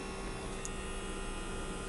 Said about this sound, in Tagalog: So parang vacuum lang siya talaga, as in nanghihigop siya.